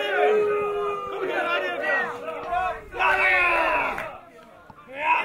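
A crowd at a Buckle Up pro wrestling event cheers and chants in loud rhythmic bursts, with whoops and shouts swelling and fading over several seconds.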